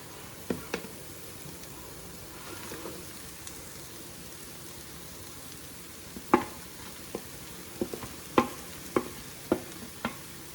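Jaggery melting and bubbling in a pan on the stove, a faint, soft simmer with scattered sharp pops and a few light utensil taps, sparse at first and more frequent toward the end.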